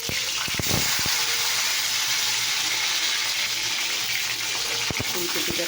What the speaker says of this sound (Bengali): ফুলকপিটাকে আগে আমি ভেজে নিচ্ছি